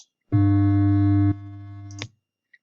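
A steady, buzzy electronic tone starts abruptly, drops to a lower level after about a second, then cuts off cleanly.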